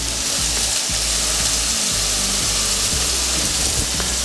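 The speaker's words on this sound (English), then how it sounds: "you want to cook this chicken for about 10 minutes, just until it's lightly browned" Chicken pieces browning in a hot pan for butter chicken give off a steady, dense sizzle with constant high crackle and a low rumble underneath, running without pause and with no talking.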